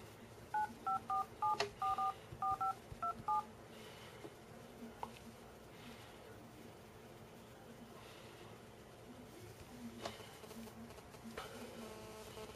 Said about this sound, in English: Let me just call my house phone.